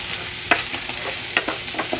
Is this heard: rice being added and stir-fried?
yes